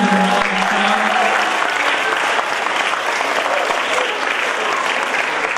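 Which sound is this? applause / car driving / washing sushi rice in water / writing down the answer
applause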